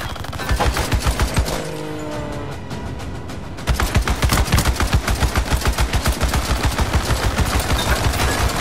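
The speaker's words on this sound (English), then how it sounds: "These guns are so powerful!" Rapid gunfire from powerful guns in a video game, a dense rattling burst of automatic shots that pauses briefly, then resumes louder and continuous to the end, loud and without talk.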